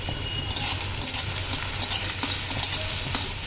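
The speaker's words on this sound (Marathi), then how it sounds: "त्यात टाकायची आहे थोडीशी मिरची आणि मिरची थोडीशी परतेपर्यंत हलवून घ्यायचं" Green chili stir-fries with browned onion, giving a loud, close sizzle punctuated by regular spatula scrapes and clinks against the pan.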